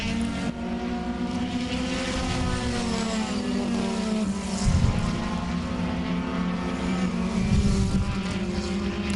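Race cars battle on a New England track, a loud, sustained engine drone with shifting pitch as cars pass close by, without any talking.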